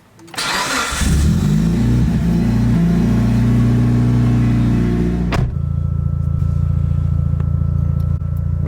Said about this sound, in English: before I start the car